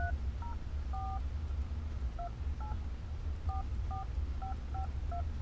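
Keypad tones from manually entering a phone number on a truck's Bluetooth phone system: about a dozen short, evenly spaced dual-tone beeps over a steady low engine rumble, with no talking.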